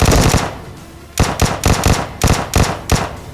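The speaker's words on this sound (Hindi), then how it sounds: "भाई लेफ्ट साइड से एक फायरिंग साउंड आता है और वहाँ पे एक बॉट भी किसी को मार रहा होता है" Automatic gunfire from a bot in a video game crackles in repeated sharp bursts, an opening volley followed by several quick clustered shots, loud and close with no talk.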